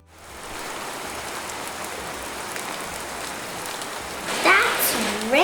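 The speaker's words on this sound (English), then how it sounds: "That's rain, lluvia." Steady rain hisses evenly on a surface throughout, with a brief higher tonal sound rising over it near the end.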